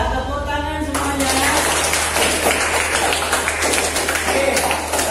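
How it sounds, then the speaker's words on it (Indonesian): Classroom applause from a group of students, a broad steady wash of clapping that swells after the first second and holds loud and dense to the end, with a voice briefly audible at the start. "Ya, tepuk tangan semuanya."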